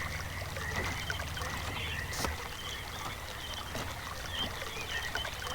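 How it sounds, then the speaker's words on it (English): Water runs and trickles through channels in the game realMyst's Channelwood Age, a steady soft gurgling flow with faint splashes, heard alone. "And now the water is flowing down this path."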